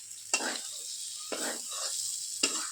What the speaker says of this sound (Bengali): অল্প একটু তেলের মধ্যে ভাজিয়ে দিলাম